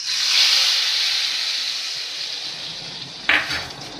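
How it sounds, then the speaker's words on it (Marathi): Byadgi chilies dropped into hot oil for a tadka, giving a loud, steady sizzling hiss that slowly fades, then a sharp fresh burst of frying near the end. "आता थोडा बेडगी मिरचीचा तडका टाकून"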